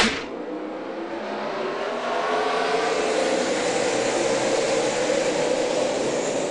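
NASCAR stock cars race at Charlotte during the Coca-Cola 600, a loud, sustained engine roar that swells as the pack passes close by, with no voices.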